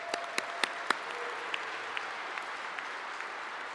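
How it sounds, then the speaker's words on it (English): Scattered audience applause rings out at a ceremony opening a new shipyard facility built for Navy frigates, starting with a few sharp claps and settling into a steady, moderately distant patter with no voices. "How about a round of applause for Jason?"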